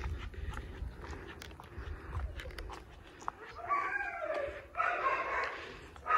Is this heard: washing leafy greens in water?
no